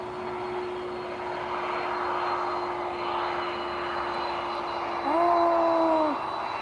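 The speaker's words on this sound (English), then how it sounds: "the Star Air is taking position for takeoff" A Star Air airplane taxis into position for takeoff at Lisbon Airport, its engines a steady distant drone with a constant whine, swelling briefly louder toward the end.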